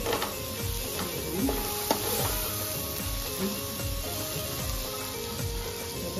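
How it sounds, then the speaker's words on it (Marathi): Dried bombil fish, freshly washed, sautéed in hot oil in a pan, giving a steady close sizzle with occasional stirring scrapes and light utensil clinks throughout, no voices. "मस्त तेलावर परतून घेणार आहे।"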